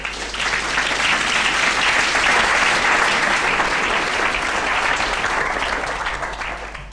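Sustained audience applause welcoming lecturer Peter Wilson at an architecture lecture hall, a dense, steady clapping from a large crowd that holds evenly for several seconds before tapering slightly at the end.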